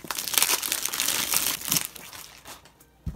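An X-Acto knife slices through the plastic package wrapping on a book, giving a close, steady crinkling and scraping that lasts a couple of seconds and then fades into quiet.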